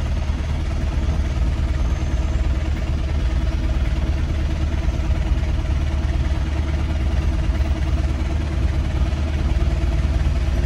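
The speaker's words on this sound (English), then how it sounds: "Idling up the hill." A car engine idles steadily while crawling slowly up a hill in the Philippines, a constant low rumble filling the whole stretch with no talk.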